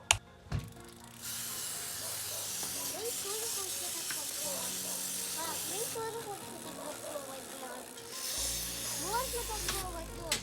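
Short bursts of aerosol lubricant spray hiss close up onto a bicycle chain, separated by pauses, while people talk in the background.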